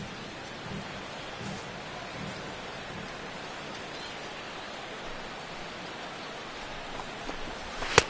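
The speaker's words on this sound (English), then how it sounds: "The rain, as we've mentioned, coming down fairly steadily here at game time." Steady rain falls through a baseball video game, MLB The Show 16, during a Detroit Tigers at Cleveland Indians matchup. It makes a continuous, even hiss with no talk, and one sharp click comes at the very end.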